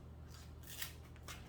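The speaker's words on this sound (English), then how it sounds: "So I am going to cut that one off because" Scissors snip off a split Sansevieria leaf, giving a few quiet crisp cuts over low background hum, fairly close but faint.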